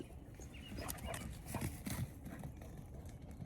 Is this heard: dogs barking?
yes